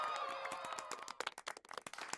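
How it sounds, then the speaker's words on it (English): Sharp, separate hand claps ring out in a fairly even rhythm during a virtual reality metaverse session, following a brief tonal sound at the start, close and clear. "Jesse, can you hear me clapping?"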